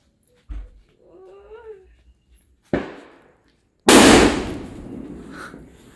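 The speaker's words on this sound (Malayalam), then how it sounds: "ഈ ഗുണ്ട് പൊട്ടിക്കുമ്പോളേ എപ്പോഴും എന്റെ കൈ അറിയാതെ ചെവിയിൽ ഇവിടെ വരും" A bomb-type firecracker set off during a Christmas celebration bursts with a sharp loud bang, followed by a second, bigger blast that trails off into a noisy rumble, after an earlier thump and a brief cry.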